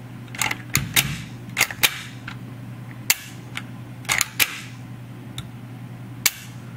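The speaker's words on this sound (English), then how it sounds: "The overall sound of the charging handle, the dust cover, and the fake bolt gives a very realistic sound." Charging handle, dust cover and fake bolt of a VFC Vickers M4 airsoft rifle being worked, a series of sharp metallic clacks and snaps in irregular bursts, close and loud against a low steady hum.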